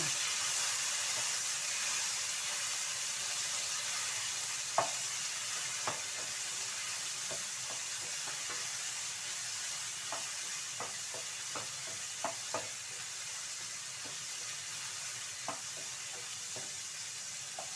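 Tomatoes fry in a pan with a steady broad sizzle, punctuated by scattered sharp stirring clicks and taps throughout, close and moderately loud.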